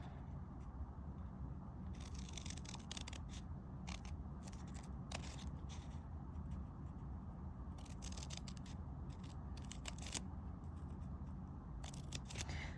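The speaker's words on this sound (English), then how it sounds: "So we are going to cut those lines." Scissors snip paper while cutting the lines of a 3D hanging snowflake, giving a series of faint, crisp cuts in short bursts over a steady low room hum, with no talking.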